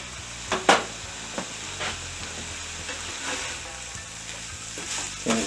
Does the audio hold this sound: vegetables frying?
yes